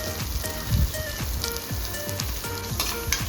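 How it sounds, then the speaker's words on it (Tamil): Three small chopped shallots added to a hot pan of oil for mushroom masala, crackling and sizzling steadily with stirring scrapes and spatters, close and alone. "நம்ம பொடிசாக கட் பண்ணி வச்சுருக்க வெங்காயத்தை நம்ம ஆட் பண்ணிக்கலாம்."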